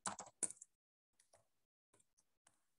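Someone types a Python program on a computer keyboard, with a quick flurry of close, crisp key clicks at first, then a few sparse, fainter taps spaced apart in quiet.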